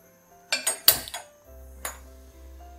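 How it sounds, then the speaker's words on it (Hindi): Metal cooking pot handled on a kitchen stove while preparing chicken legs: a few sharp clanks and clinks in quick succession, a later single knock, then a low hum as the flame is lit. "एक बर्तन लेंगे, फ्लेम ऑन करेंगे"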